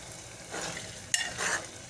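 Turnip bhujia is stirred as it fries in a pan, with a soft steady sizzle under two scraping passes of the spoon and one brief metallic click. The sound is close and quiet, with no talking.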